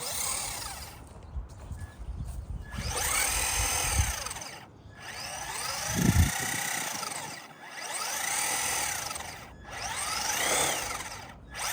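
A homemade remote-controlled car with torque vectoring drives and climbs over an obstacle, its electric motor whining in repeated rising and falling surges, with scrabbling and thumping as the wheels grip and spin.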